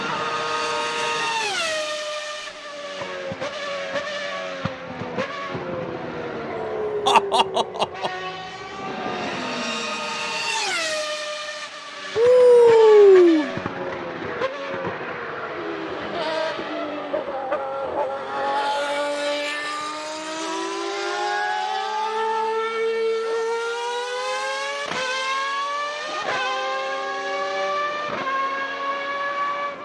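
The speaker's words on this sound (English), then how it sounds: "Best sounding F1 car. They don't sound like this anymore." A Ferrari 412 T2 Formula 1 car's V12 engine screams at very high revs, rising and falling through rapid gear changes as it laps, with sharp downshift blips and one brief louder burst midway.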